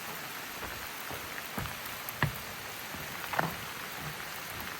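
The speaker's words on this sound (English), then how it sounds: "And it is pouring rain." Steady pouring rain hisses across a wide band, with scattered louder drops and splashes standing out now and then, heard during a drive up and over a suspension bridge in the Bluff Mountain area.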